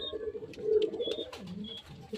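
A pair of pigeons coo close by in soft, throaty, rolling calls, with a few faint chirps and rustles around them.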